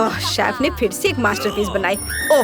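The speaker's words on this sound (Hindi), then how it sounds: "ये मेरी अलार्म घड़ी है।" An alarm clock goes off in a home kitchen during a cooking challenge, a low buzzing pulse repeating in short bursts beneath continuous talking.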